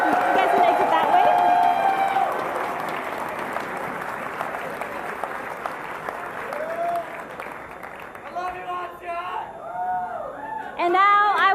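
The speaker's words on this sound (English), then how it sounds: "Another round of applause, please." Crowd applauding at a League of Legends esports grand final between CLG and TSM, sustained dense clapping and cheers from a large audience, fading gradually with a voice speaking over it near the end.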